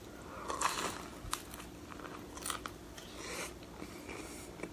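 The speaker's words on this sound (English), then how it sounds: "Always chew softly with wild mussels." Wild California mussels cooked in broth are chewed softly close up, giving faint, irregular wet crunches and bites with no talking.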